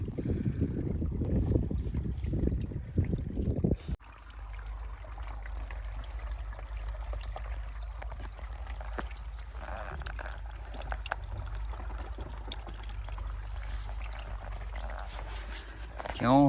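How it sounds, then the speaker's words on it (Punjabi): Water rushes steadily through a bend in a new pipeline driven by a motor, with a low, continuous rumble, louder and fuller at first, then settling into an even flow. "ਸੁਣਦਾ ਖੜਕਾ ਮੋੜ ਤੋਂ ਪਾਣੀ ਮੁੜਨ ਦਾ"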